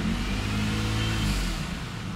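A running Toyota Highlander engine held at raised RPM, steady and close, a continuous low drone with a slight dip near the end and no talk.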